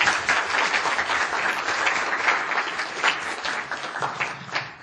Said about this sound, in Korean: 수고해주신 우리 심사위원단께 감사의 박수 부탁드리겠습니다.